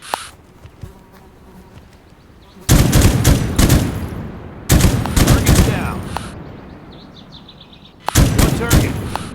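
M249 machine gun fired on a firing range in the video game Dagger Directive, in three loud sustained bursts of automatic fire separated by quieter pauses, close and dominant.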